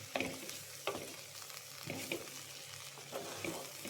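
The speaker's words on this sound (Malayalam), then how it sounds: "തേങ്ങ ഇട്ട ശേഷം നന്നായിട്ട് ഇളക്കുക." A spoon stirs grated coconut into an ivy gourd stir-fry in a pan, making soft, rhythmic scrapes about every second over a quiet, steady sizzle, close and fairly faint.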